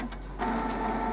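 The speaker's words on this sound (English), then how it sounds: "Now your printer will get ready to replace the ink cartridges." An Epson Stylus SX415 printer whirs as its mechanism shifts the carriage into the ink cartridge replacement position, a steady close mechanical hum that grows louder partway through.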